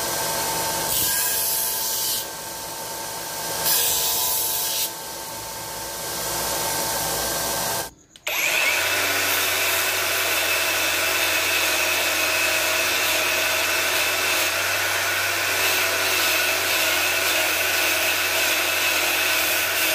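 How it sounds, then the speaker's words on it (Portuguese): A small power sander works steadily on a frying pan being fitted with a handle, cleaning burrs and hammer marks. Loud, continuous whirring grind with a brief cut-out near the middle before it resumes, no talk. "Essa lixadeirinha tá fazendo isso aí, ó."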